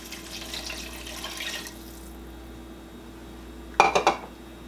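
Water pours into a pot with a soft hissing splash for about two seconds, followed by quiet and then a few close clinks of metal cookware.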